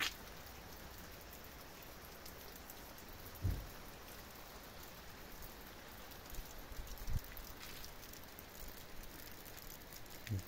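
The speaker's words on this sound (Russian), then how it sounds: "Кто не верит, вот он дождик." Soft, steady rain patters outdoors as a continuous hiss, with a few louder drips landing nearby.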